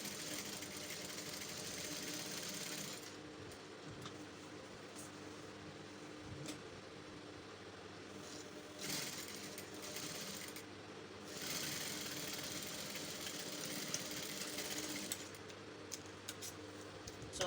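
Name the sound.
sewing machine stitching fabric for a kimono shift dress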